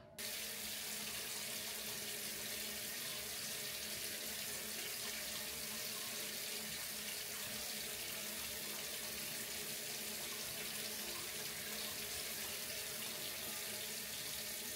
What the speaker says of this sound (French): je vais venir passer rapidement un peu d'eau et squeezer mes cheveux comme ça